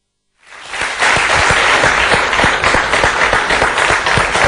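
Audience applause in a television studio during a medical talk show, starting abruptly from silence and building into loud, dense, sustained clapping with individual claps audible up close.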